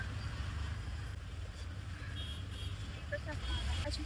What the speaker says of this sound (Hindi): रोड में बहुत ट्रैफिक है।